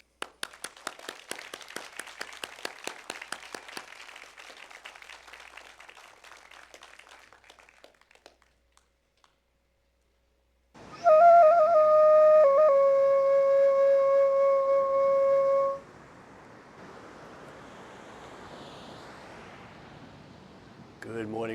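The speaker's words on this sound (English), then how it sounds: "please let our warm applause be so abundant" Audience applause at the Rod of Iron Freedom Festival, a dense, sustained patter of many hands that gradually thins and fades out, followed after a pause by a loud, steady electronic tone over a background hiss.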